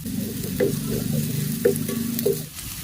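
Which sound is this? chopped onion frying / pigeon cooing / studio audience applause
chopped onion frying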